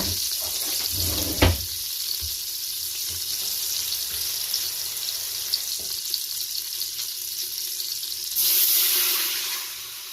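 Water poured into a hot Instant Pot to deglaze it after searing brisket sizzles and hisses steadily close up, with a sharp clatter early on and a louder rush of pouring near the end.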